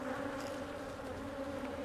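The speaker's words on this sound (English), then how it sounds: "I'm just collecting bees right now." A steady, close hum of many honey bees buzzing together, continuous and even throughout.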